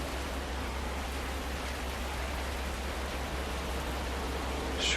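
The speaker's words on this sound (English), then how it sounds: "it's raining very heavily" Heavy rain pours steadily in the video game Stars End, a dense, constant hiss with a low rumble underneath, unbroken and fairly loud throughout.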